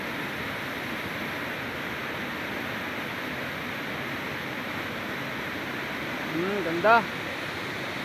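Steady broadband roar of the Libtong Falls waterfall, continuous and close, with a brief spoken word near the end.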